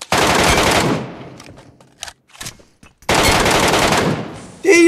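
Rapid bursts of SK12 shotgun fire in PUBG Mobile's Metro Royale Blood Moon mode, loud and close, two long volleys broken by a short gap of scattered single shots, ending in another sudden blast.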